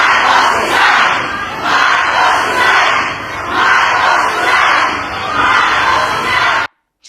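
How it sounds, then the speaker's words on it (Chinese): Large crowd at a Philippine political rally shouting together in loud, surging waves that rise and fall steadily for about six and a half seconds, then cut off abruptly. "那人群在底下还有低声呼喊说要马可仕辞职"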